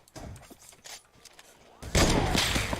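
Gunfire in Fortnite, taken as heavy sniper rifle shots, bursts in with a loud sustained blast near the two-second mark after a quieter stretch of scattered softer game sounds.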